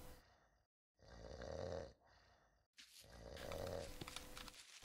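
Snoring from a character in a bridge-building puzzle video game, a few rough, rasping breaths in a rising and falling rhythm with short silent gaps between them, loud and close with no talking over it.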